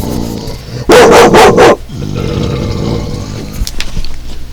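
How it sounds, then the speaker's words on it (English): A dog barks loudly and close by, firing a quick run of three or four sharp woofs in a burst, then falls quiet against an indoor background. "What are you barking at?"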